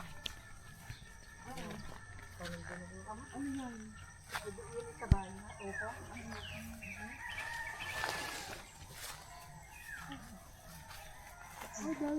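Chickens cluck and call around a farmyard while people talk in the background, with occasional footsteps and a sharp knock.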